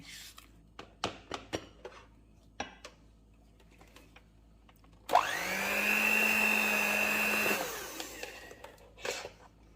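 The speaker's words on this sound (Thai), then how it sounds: "พอใส่แป้งไปเราก็ต้องคนนิดนึงนะคะ เพื่อป้องกันแป้งฟุ้งกระจาย" Cookie dough with butter is mixed just after flour goes in: a few light knocks and taps, then a steady motor whir with a high whine lasting about two and a half seconds, then more soft clatter.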